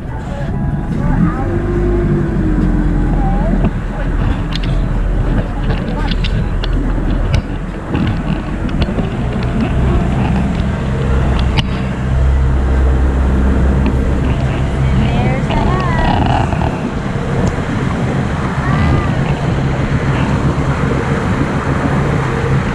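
A motorboat engine drones loudly and steadily at close range on Lake Anna, with wind buffeting and people talking faintly over the noise.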